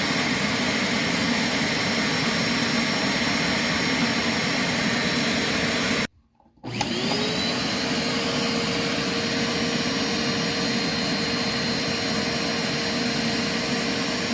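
A Clean Obsessed CO888 vacuum cleaner motor runs loud and steady, cuts out for about half a second, then restarts and settles back into a constant high whine.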